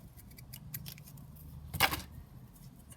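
Scissors snip through paper to cut a junk journal tag, with a few light crisp clicks followed by one loud close cut near the end, set against quiet room noise.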